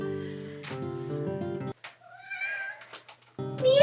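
A cat meows repeatedly close by, drawn-out, whiny calls with short pauses between them, loud and clear with no talking over them.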